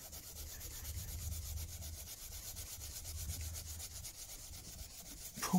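Scrubbing rust off a Japanese saw blade, using the corner of the scrubber on stubborn patches: a close, steady rhythmic rubbing and scraping with repeated strokes, alone without talk.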